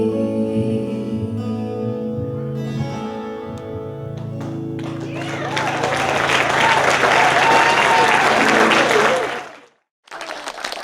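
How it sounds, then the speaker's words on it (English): Café audience at a Brewin' Bistro live show applauds the performer Brin; a sustained tone fades out, then warm clapping swells and carries on for several seconds before cutting off briefly. "How about a little applause for Brin?"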